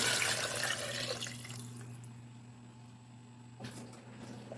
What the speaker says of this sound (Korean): 2리터만 부어볼게요.